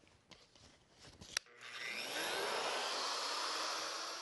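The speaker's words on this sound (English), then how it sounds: "At this point, we can plug the router in and make this cut." Plunge router spinning up and cutting a mortise in wood, starting after a few light handling knocks and a sharp click, then a loud steady high-pitched whine that continues to the end.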